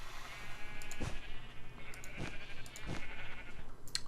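Sheep bleat in the Minecraft video game, three or four short synthetic bleats spaced about a second apart over a steady low background hum, with no talking.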